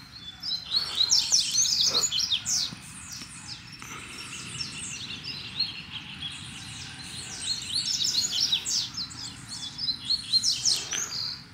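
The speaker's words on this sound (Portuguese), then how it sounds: "Pra mim os passarinhos cantam lindo." Several double-collared seedeaters (coleiro) sing bright, rapid chirping phrases, continuous and close, with layered overlapping song throughout and no talking.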